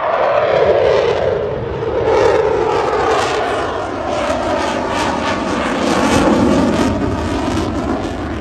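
An RAF Typhoon jet passes low and slow at an airshow, its engines a loud sustained roar that swells and recedes, with no talk over it.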